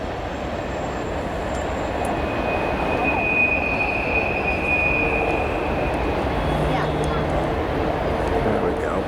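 A long train rumbles past at a distance at night near a coastal beach campground, a steady broadband roar with faint wheel squeal, while a voice speaks quietly over it.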